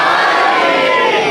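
A large crowd at a Jashan-e-Shaban religious gathering chants the Haidari slogan loudly in unison, a dense and sustained roar of many voices close around.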